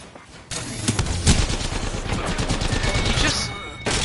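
Video game gunfire crackles in a dense, continuous burst of rapid shots, loud and close for most of the few seconds, with a brief quieter lead-in.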